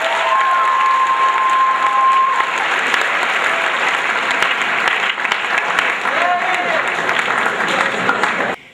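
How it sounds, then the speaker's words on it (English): A studio audience gives Colby a long, loud round of applause. The clapping holds steady with a little cheering mixed in, then cuts off sharply. "So let's give Colby another huge round of applause."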